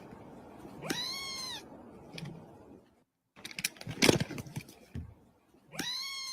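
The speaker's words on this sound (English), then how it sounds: "his little meow sounds like a Pokemon" A cat gives two clear, drawn-out meows close by, with some scuffling and clattering noises in between.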